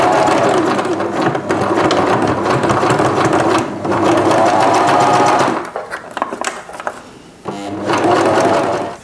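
Sewing machine stitching close along a zipper on fabric for custom van upholstery covers, a steady loud mechanical whir of rapid stitches that stops briefly near the end, stutters, then resumes.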